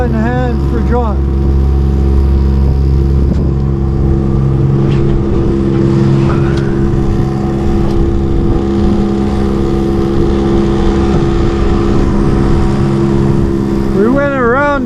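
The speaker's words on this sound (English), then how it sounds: "Leaving Gibson by motor." Motorboat engine steadily droning as it leaves Gibsons harbor for a crossing of Georgia Strait, a loud continuous hum with low harmonics throughout, with faint voices now and then.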